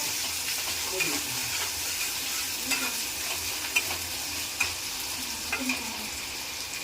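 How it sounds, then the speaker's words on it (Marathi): Onion frying in a pan gives a steady, moderately quiet sizzle, broken by a few sharp scrapes and clicks from stirring. No one speaks. "मागे आता आपण कांदा फ्राय करत आहोत"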